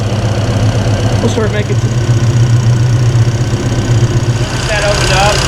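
An engine fitted with Holley Sniper 2 EFI and a TKX transmission idles at about 950 RPM, a loud, steady low rumble that runs throughout, with brief speech over it.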